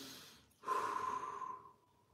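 One person takes an audible breath in and then releases a long, breathy exhale, soft and close, with no other sound around it.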